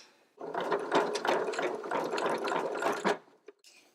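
A sewing machine runs a steady, fast reinforced stitch through fabric for a tortilla warmer, whirring continuously for about three seconds before stopping, followed by a faint click or two.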